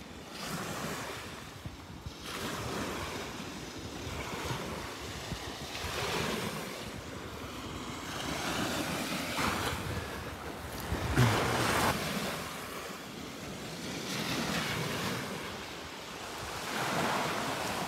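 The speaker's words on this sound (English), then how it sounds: "you don't get to hear this much noise from the waves here" Ocean waves wash onto the shore in steady rolling surges, with a constant hiss and rumble of surf and wind noise over the microphone, loud and close, no voices.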